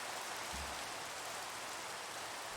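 Steady rain in the Minecraft video game, a dense even hiss that holds at constant level throughout, alone with no talk.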